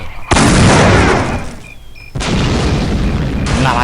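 Two heavy booming explosions in the video game Postal 2, the first loud and sharp, the second following after a brief lull, with rumbling tails.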